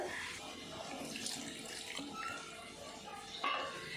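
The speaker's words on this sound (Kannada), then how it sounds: "ಈ ಬಾಜನಗು ಒಂತೆ ನೀರು ಪಾಡ್ದು ಒಂದು ಅರ್ಧ ಕಪ್ಪದಾತ ನೀರು ಪಾಡ್ದು" Water runs and splashes into a pan, a soft uneven pouring sound with faint background voices.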